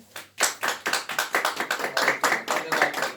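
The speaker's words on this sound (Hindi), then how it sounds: "हम सब ताली बजा के जो है उसका अभिनंदन करेंगे।" At a Sunday church service, the congregation claps together in a brisk, even rhythm, about twenty sharp beats in unison, close and lively, after a brief quiet opening.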